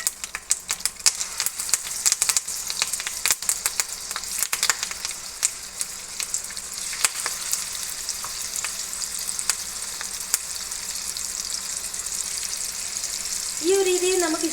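Tuna fish pieces sizzle and crackle steadily in hot oil in a pan with curry leaves, with scattered sharp pops and spatters throughout and a brief louder burst near the end.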